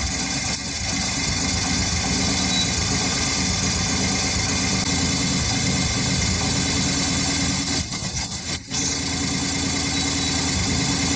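A Yamaha Virago 250 motorcycle engine idles while warming up, a steady low mechanical drone with even vibration, close and continuous, with a brief dip in the sound near the end.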